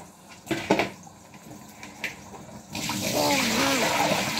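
Pig water splashes and pours steadily out in a broad rushing wash after a few scattered knocks and bumps, with faint voices in the background.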